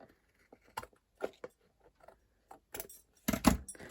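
Scissors cutting card and clear acetate for a pop-up house card, heard as a scattering of short close snips and rustles that build to a louder burst of cuts near the end, with no talking.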